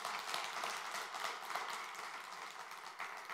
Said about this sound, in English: God, let's applaud.